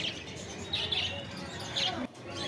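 Pineapple conures and budgerigars at the Garia bird market, a few bright chirps rising over steady crowd murmur, with voices audible in the background.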